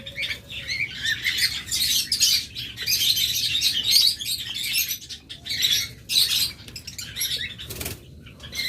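Loud, busy chirping and squawking from a crowd of caged pet lovebirds and budgerigars for sale, with bursts of wing flapping, steady and close throughout.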